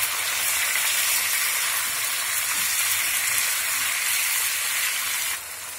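Onion and chicken sizzle steadily in a hot pan, a constant crackling hiss that drops slightly in level near the end.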